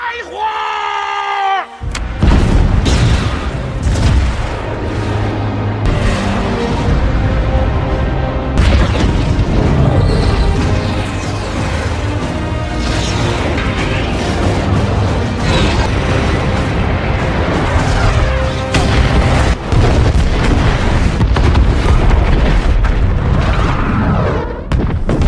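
Missile strikes blow apart enemy tanks in a war film, heavy booming explosions and a dense battle roar sustained loud throughout, after a brief quieter opening.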